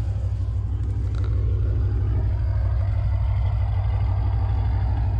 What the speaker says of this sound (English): show you guys what this car sounds like just at idle.